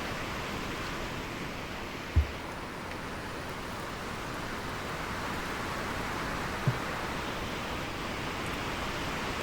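Rolling sea waves in the sailing game Sailwind on stormy seas, a steady broad wash of water noise with no distinct breaks, plus two brief soft knocks.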